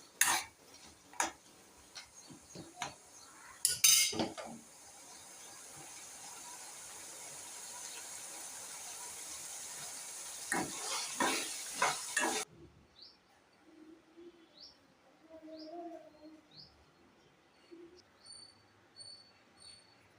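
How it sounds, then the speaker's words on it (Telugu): Tomato, chana dal, urad dal, green and dried red chillies and coriander seeds fry in oil, with stirring and clinking of a utensil against the pan over a steady sizzle, then a quieter stretch with light scraping. "టమాటో, పచ్చెనపప్పు, మినపగుళ్ళు, పచ్చిమిర్చి, ఎండుమిర్చి, టమాటా, ధనియాలు ఇవన్నీ బాగా ఫ్రై అవనివ్వాలండి ఆయిల్లో"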